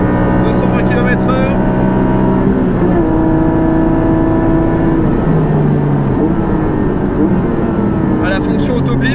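A Porsche 718 GT4 fitted with an Akrapovic exhaust roars loudly at speed around Spa-Francorchamps, its engine note rising and falling through gear changes, continuous and close, with a voice talking over it.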